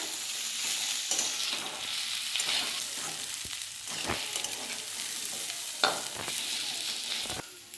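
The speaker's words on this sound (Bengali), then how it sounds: "সবজিটা দিয়ে খুব হালকা করেই ভেজে নেবো" Mixed vegetables with green chillies fry lightly in a pan for a vegetarian khichuri, giving a soft, continuous sizzle broken by a few sharp scrapes and knocks of a spoon stirring against the pan.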